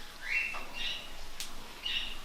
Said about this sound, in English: Yeah, it's very, the birds chirping.